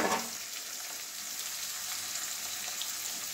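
Chopped tomato and green chillies with spices frying in a pan give a steady, close, bright sizzle. A sharper burst at the start settles into continuous crackling hiss with no voices.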